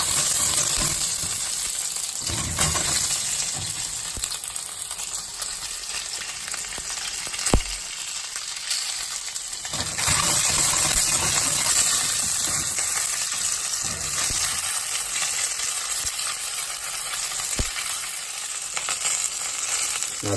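Sausages frying in an Aldi non-stick fry pan, a loud, steady sizzle and crackle that runs unbroken throughout, with a few brief knocks and shifts, close by and without talk.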